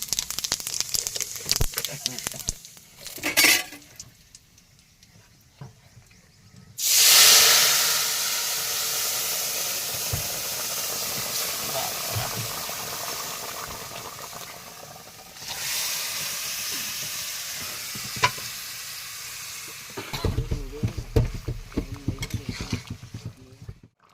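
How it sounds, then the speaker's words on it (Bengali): Cumin seeds dropped into hot oil while cooking chicken on a boat on the Matla river in the Sundarbans: a sudden loud hiss and sizzle bursts in partway, fades to a steady fry, then swells again, with people talking around it. "জিরে ফোড়ন দিয়ে দিচ্ছি।"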